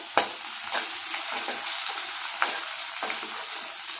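Curry leaves dropped into frying ginger masala and stirred, a steady close sizzle broken by several sharp spatula scrapes and clicks spaced about a second apart, with no talking.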